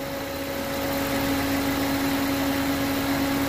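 A BMW engine idling steadily nearby, giving an even, continuous hum with a constant tonal drone and no change in speed.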